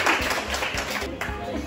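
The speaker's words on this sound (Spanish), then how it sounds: "¡Aplauso para ella, por favor!" Brief burst of applause from an audience celebrating a birthday girl in a salon, a dense continuous patter of clapping throughout.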